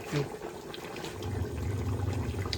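Water is poured into a pot while ragi mudde (finger millet dough balls) is being cooked, giving a steady splashing fill over a low hum, with voices nearby.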